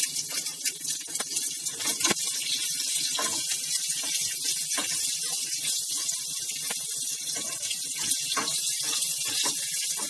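Chopped onion goes into hot oil with crackling cumin in a pan for rava dosa, producing a loud, steady sizzling hiss with scattered pops and crackles throughout.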